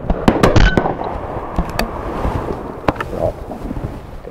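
Shotgun fire at a clay pigeon shoot in the Consall Valley: sharp outdoor reports, with wind buffeting the microphone throughout.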